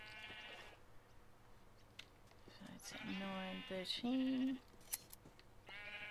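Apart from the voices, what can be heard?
sheep bleating in a video game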